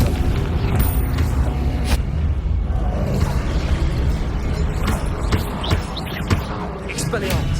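Booming fire-spell blasts of Confringo in Hogwarts Legacy burst through a dense, continuous roar of combat effects, with voices shouting over the chaotic mix.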